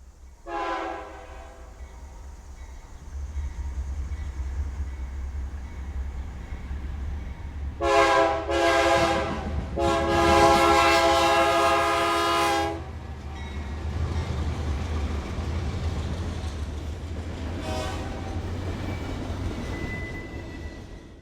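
A steam locomotive train in Cuba rumbles steadily past, its horn blasting several times in short and long bursts, then the rolling engine noise continues alone.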